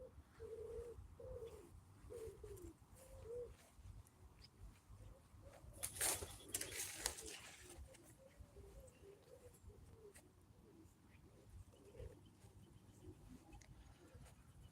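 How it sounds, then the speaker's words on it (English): Pigeons coo repeatedly in the background at a cemetery, soft, low murmuring calls recurring throughout, with a brief burst of rustling noise midway and no talk. "Look at all these birds all over the place."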